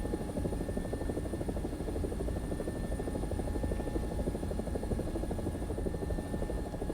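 An AB 205 A-1, the Italian UH-1H helicopter, flies in a Gaijin combat game, its rotor and turbine holding a loud, steady droning thrum with an even, fast beat throughout.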